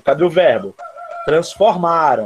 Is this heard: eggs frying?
no